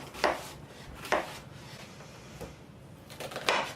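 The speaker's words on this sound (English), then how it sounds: "Then clear away all those skins, cut them each in half." A knife cuts peeled onions in half on a chopping board, giving several sharp, separate chops at irregular intervals, close and fairly quiet, with no talking.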